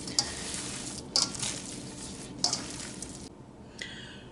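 Bare hands work ground meat for a homemade Polish kielbasa loaf, giving a few sharp wet squelches at uneven intervals over a soft, quiet background.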